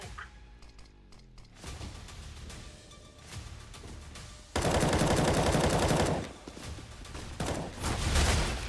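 Gunfire in the video game CS:GO, dense bursts of rapid shots, loudest in a sustained volley midway and again near the end, with softer scattered shots and clatter in between.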